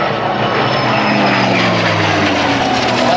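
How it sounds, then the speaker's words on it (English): A P-51 Mustang and an L-39 Albatross fly past at a Bellingham, Washington airshow, producing a loud, steady roar of propeller and jet engine noise whose pitch slowly shifts as the aircraft pass close by. "here's a P-51 Mustang in the L-39 Albatross."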